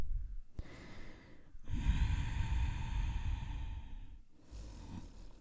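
Slow, audible breaths during a yoga forward fold: a long, breathy exhale with a softer breath on each side, close and unhurried.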